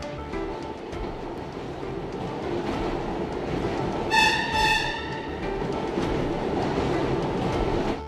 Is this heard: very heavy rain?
no